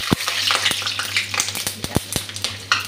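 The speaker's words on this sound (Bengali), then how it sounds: "কাঁচা লঙ্কাটা দিয়ে দিচ্ছি," Green chillies go into a hot pan while cooking a Bengali bottle-gourd-seed paste dish; a steady crackling sizzle runs throughout, punctuated by sharp clicks of a utensil stirring.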